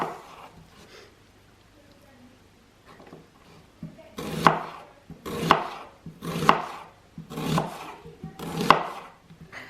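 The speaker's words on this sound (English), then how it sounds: "all we're going to be doing is we're just going to be slicing these up" A knife slices onions on a board for onion bhaji, making five or six distinct, evenly spaced cutting strokes that grow louder after a quiet opening with faint handling noise.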